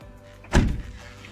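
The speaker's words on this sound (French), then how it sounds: "On peut refermer la porte" A single solid thunk as the door of a Renault Avantime is shut after fitting a sport side-skirt kit, short and close in a quiet setting.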